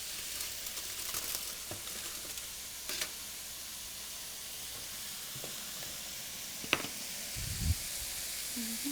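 Food simmering in a pot in a home kitchen while a Thanksgiving meal is prepared: a steady, soft sizzling hiss runs throughout, with a few faint clinks and one brief low bump near the end. No one speaks.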